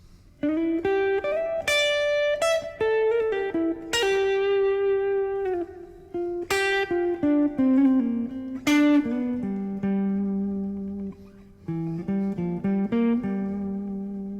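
A clean electric guitar plays a melodic line of sustained notes, sliding between pitches with quick hammered and pulled-off ornaments, alone and fairly close.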